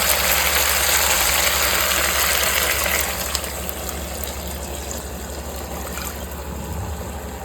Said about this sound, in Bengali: এরপর আমি এর মধ্যে একটুখানি জল ঢেলে দেবো